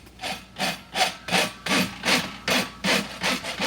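A hand rasp scrapes wood, about ten evenly spaced strokes in a steady back-and-forth rhythm, close and fairly loud with no talk.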